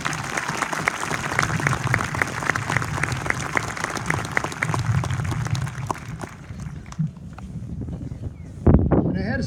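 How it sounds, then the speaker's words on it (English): An audience at a graduation ceremony applauds the evening's speakers with sustained, dense clapping that tapers off near the end, with some voices mixed in. "please join me in a nice round of applause for our speakers tonight"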